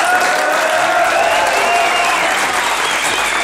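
Steady, dense applause from a television studio audience, loud and unbroken throughout, with no voices over it.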